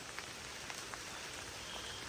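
Rain falling outdoors and pattering on surfaces, a soft, steady hiss with scattered individual drop ticks, distant-sounding and quiet, with no voices.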